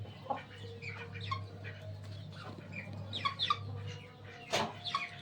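Several chickens cluck and murmur softly inside a warmed coop, with scattered calls over a steady low hum, one brief louder squawk near the end.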